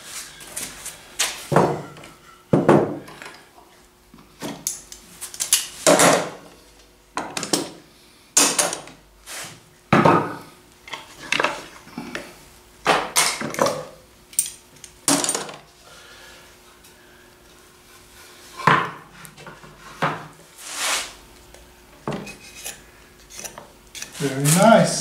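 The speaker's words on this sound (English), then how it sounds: "Remove the clamps." Metal clamps come off a two-piece plaster slip-casting mold in a long series of close clinks, clanks and ratcheting clicks, irregular and spaced by brief pauses.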